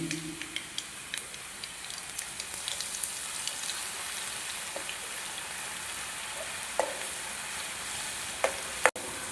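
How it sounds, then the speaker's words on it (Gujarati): Garlic paste and asafoetida fry in hot oil with crackling mustard seeds, giving a steady soft sizzle with scattered sharp pops, as a spiny gourd curry is cooked. "હવે આપણી રાઈ કકડી ગઈ છે, હવે આપણે નાખશું લસણની પેસ્ટ અને હિંગ।"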